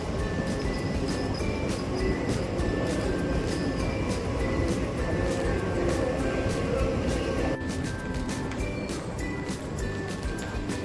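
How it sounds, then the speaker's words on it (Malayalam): A Dubai Metro train at a station: a loud, steady rolling rumble with a faint electric whine and rhythmic clicks from the track, continuous and close throughout. "നമ്മളിതാ മെട്രോ സ്റ്റേഷനിലെത്തി"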